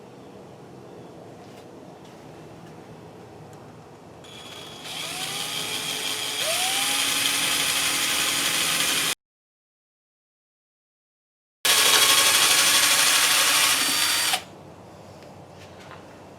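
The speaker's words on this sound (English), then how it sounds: "we're going to take a drill, and we're going to drill through the brush part and the rod part" A power drill bores through a broom's brush and handle, its motor whining steadily and growing louder over several seconds, cutting out briefly, then roaring again at close range before stopping.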